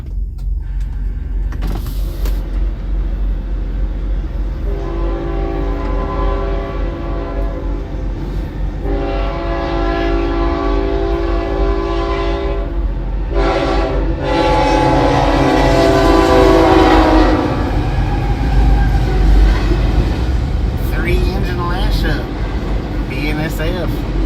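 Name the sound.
BNSF train passing and sounding its horn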